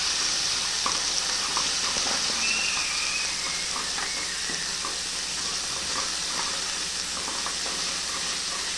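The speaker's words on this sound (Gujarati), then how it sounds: "મસાલો આ રીતે થોડો સોતરી લેવો તેલના અંદર" Spice masala sautéing in hot oil in a pan while cooking papdi nu shaak, a steady close crackling sizzle with occasional faint stirring scrapes throughout.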